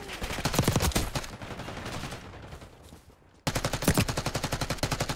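Loud rapid automatic gunfire in Call of Duty Black Ops 6 multiplayer, a dense burst that fades out, a silent gap, then another sharp rhythmic burst of shots.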